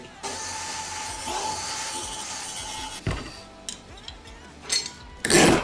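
A continuous grinding saw whine through an aluminum strip, then scattered clinks and clatter of metal pieces, ending with a loud scraping burst.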